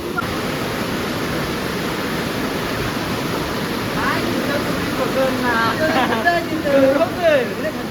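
River water flows with a broad, steady rushing wash during heavy monsoon rain, close and continuous, while voices talk and call out over it toward the end.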